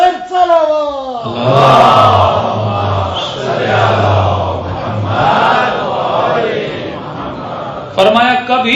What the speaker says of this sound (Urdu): صلوات بر علی وآل علی بلان تر صلوات